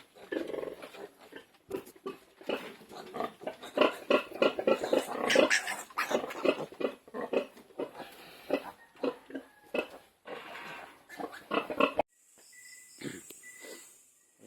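A litter of eleven newborn piglets in a farrowing pen gives soft grunts, squeaks and snuffles, a busy close chatter of small animal sounds that drops off near the end.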